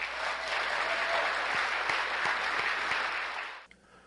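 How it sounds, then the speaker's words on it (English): An audience at a disability awareness awards ceremony claps in a dense, even burst of applause that cuts off abruptly near the end. "please give a round of applause to Lou Raguse"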